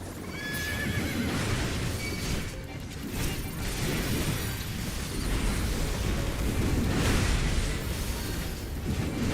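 A horse neighs and whinnies over steady clip-clopping hooves and a dense, rumbling game soundscape, with no talking.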